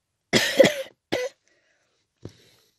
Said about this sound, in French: je prends sur moi pour pas tousser, mais c'est compliqué